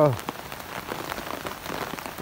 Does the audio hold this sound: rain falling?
yes